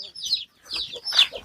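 Chickens in a rural Thai yard give short clucking calls in two or three quick bursts, close and fairly loud, with brief gaps between them.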